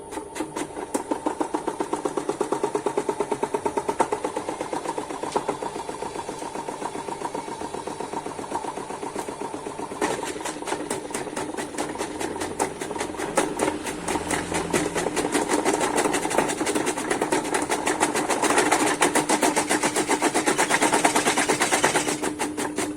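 A potato slicing machine runs with a steady mechanical whir and fast rhythmic clatter that grows denser and a little louder about halfway through, continuous for the whole stretch without talk.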